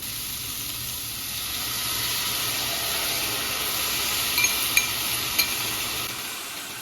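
Vegetable ramen stir-fry stirred in a pan, a soft steady sizzle with a few light utensil clicks toward the end.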